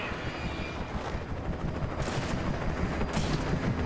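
Enemy gunfire in the video game Alan Wake, dense rumbling shots and bursts layered over a constant noisy battle background, with a couple of brighter cracks standing out.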